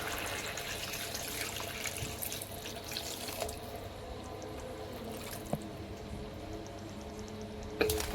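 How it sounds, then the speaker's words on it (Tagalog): Water pours steadily into a pan while chilli crab with squid cooks at home, a continuous close splashing rush with a few brief drips and clinks, no talking. "So ilagay na natin yung tubig."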